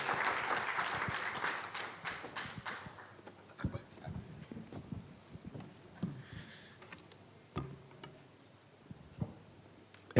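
Applause for an ambassador at a book launch: a dense burst of clapping that quickly fades into scattered claps, knocks and shuffling in the hall.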